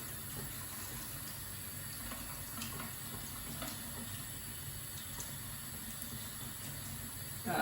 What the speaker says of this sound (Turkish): Akan suda bekletiyoruz.